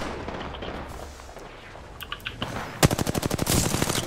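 Gunfire in the video game Apex Legends, a fast burst of rapid, evenly spaced shots that breaks out near the end after a stretch of low ambient game noise, loud and close, with no talking.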